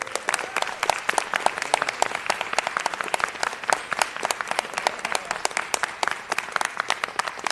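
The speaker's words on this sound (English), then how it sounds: "I would like for you to give a round of applause" Applause fills a city council chamber as the audience gives a round of applause for a day's declaration, dense steady clapping with sharp individual claps throughout, fairly close and loud, with no talk over it.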